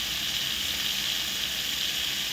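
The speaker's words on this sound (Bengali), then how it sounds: "তেল হলুদ দিয়ে মাখানো মাছগুলো গরম তেলে ছেড়ে দেওয়া হলো।" Turmeric-coated fish fry in hot oil, giving a steady, dense sizzle with an even hiss that holds without a break, close and fairly loud, with no voices.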